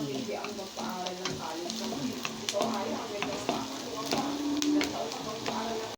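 Salmon frying in a pan, with a steady sizzle, spatula stirs and scrapes, and small clinks running throughout; a voice may be faintly present underneath.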